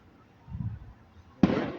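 Fireworks on the night of July 3rd, a single sharp distant boom bursting after a soft murmur of voices, loud and brief against a quiet background.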